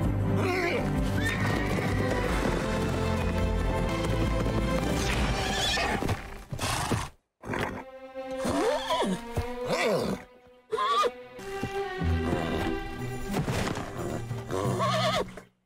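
Horses in the animated film Spirit: Stallion of the Cimarron neigh and whinny loudly over a dense orchestral score, with hoof clip-clop mixed in and a few brief quiet gaps.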